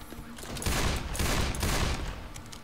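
Rapid, dense gunfire from Left 4 Dead 2, with loud overlapping shots in a continuous barrage that swells midway and then eases off slightly, close and full.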